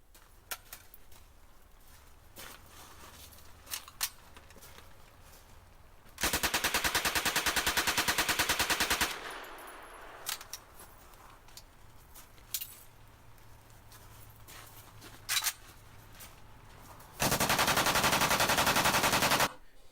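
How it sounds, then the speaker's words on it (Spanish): An automatic firearm fires two sustained bursts of rapid successive shots with the trigger held down, each burst lasting about three seconds, loud against a quieter background of scattered clicks and handling noise. "sino que manteniendo presionado se efectúan disparos sucesivos"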